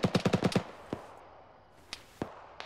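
Machine gun fire in the military shooter Arma opens with a rapid burst of about six sharp shots, followed by a few scattered single cracks further off.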